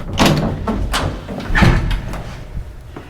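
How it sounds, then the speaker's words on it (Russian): Building lift door pulled open by hand, giving a series of close, loud metallic thumps and sliding rattles spread over a few seconds. "Сами открываем двери."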